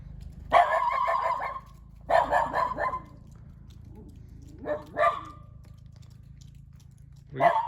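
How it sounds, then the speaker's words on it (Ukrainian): Dogs bark nearby in short, irregular bursts, several clusters of loud yaps separated by quiet gaps, over a faint low background hum. "Домашні собаки."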